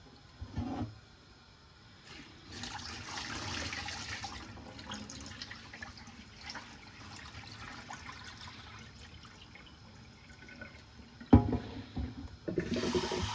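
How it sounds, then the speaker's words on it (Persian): Rice being rinsed in water for Persian lubia polo gives a steady swishing, trickling wash with splashes, near and moderate, ending in a sharper knock and a louder pour of water. "تقریبا این دفعه سومیه که داریم برنج میشوریم"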